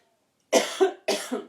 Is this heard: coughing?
yes